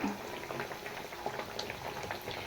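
Sweet tikkis (koonday) sizzle gently in a pan on low heat, a steady, dense bubbling crackle of hot oil with small pops throughout, close and continuous.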